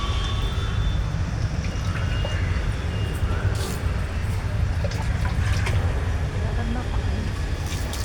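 Water runs steadily outdoors at a public bathing spot as something sticky from sugarcane is rinsed off, a continuous rushing splash with a voice talking over it.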